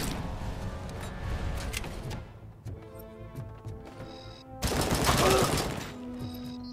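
Gunfire in the retro first-person shooter Robocop Rogue City comes in rapid bursts over game music, building to a loud, dense volley near the end.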